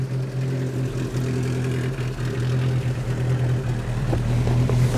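The engine of a 1940 Rosengart LR539 Supertraction runs steadily at close range, a low, throbbing hum with steady harmonics and slight variations in pitch, heard with no talking.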